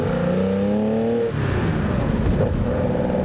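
A 1971 Porsche 911 air-cooled, carbureted engine revs up close with a slight miss, pitch climbing as it accelerates through a gear, then a throaty rumble continues with a whooshing roar.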